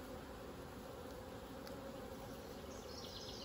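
A dense, steady drone of many angry honey bees buzzing close by at an opened hive during inspection, agitated and continuous with no pauses.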